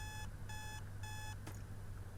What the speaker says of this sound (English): After shutting off my alarm, I attempted to fall back asleep